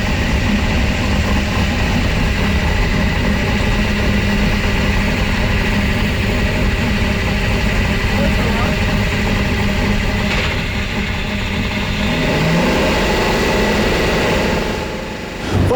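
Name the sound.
vintage race car engine roaring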